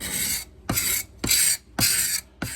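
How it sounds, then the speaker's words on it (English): A hand scraper rasps along a varnished wooden billy club, stripping the finish in five steady strokes, each a loud, close, gritty scrape separated by short pauses. "I just find that this fits my hand really well and does a good job of scraping off the varnish"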